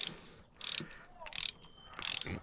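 Ratchet wrench turning a spark plug into the aluminum cylinder head of a Chevy Cobalt, three short bursts of rapid clicking separated by pauses, close and fairly quiet.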